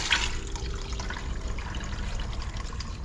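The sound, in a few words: coolant draining from a 1951 Farmall M tractor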